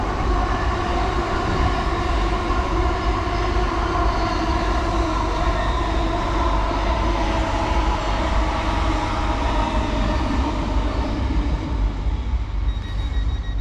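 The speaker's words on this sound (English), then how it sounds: "passing through, we've got an LNER service to London King's Cross from Skipton. This one's 800-111." An LNER train, unit 800-111, running through Finsbury Park station toward London King's Cross from Skipton: a loud, close, sustained roar of wheels and rail noise with steady droning tones, holding constant and easing slightly at the end.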